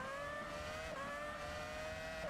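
Race cars speed past at Albert Park Circuit in Melbourne during a WMSC race, a steady loud engine whine held at a high pitch that rises slightly as a train of cars streams by.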